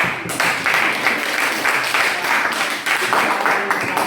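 Steady, dense applause from a classroom group clapping continuously, loud and close, with no pause throughout.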